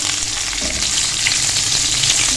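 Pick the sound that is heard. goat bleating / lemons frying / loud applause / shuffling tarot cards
lemons frying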